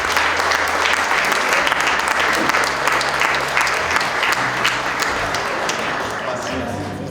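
Sustained applause from an awards-gala audience greeting three category finalists, dense and steady throughout, easing slightly toward the end with a low murmur of voices underneath.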